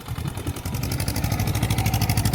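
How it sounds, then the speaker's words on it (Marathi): A farm tractor engine runs steadily in a field during tilling work, a close, continuous mechanical rumble with a rapid, even clattering pulse and no talk. "चाललंय आपलं ट्रॅक्टर."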